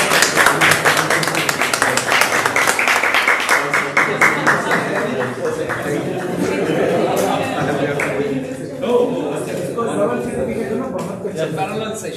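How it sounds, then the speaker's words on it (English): Audience applause at a live-streamed event, loud crowded clapping that gradually thins out, with talking and a few laughs mixed in beneath it. "Please clap for"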